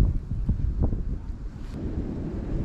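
Gusty, swirling wind buffets the microphone beside a fishing lake, a continuous low rumble with a few brief thuds and no voices.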